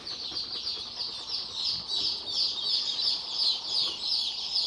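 Day-old Ancona ducklings, an endangered breed, peep in a continuous, shrill chorus of rapid high cheeps that pulse in quick overlapping waves, close to the microphone with no talking.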